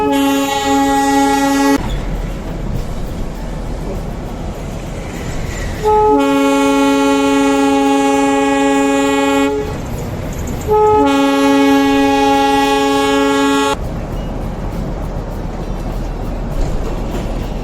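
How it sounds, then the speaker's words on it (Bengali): Darjeeling Himalayan Railway toy train running slowly along winding hill curves among pines, its horn sounding loudly in three long sustained blasts over the steady rumble and clatter of the moving carriages. "রাস্তার বাঁকে বাঁকে ট্রেন ধীর গতিতে চলার দৃশ্য"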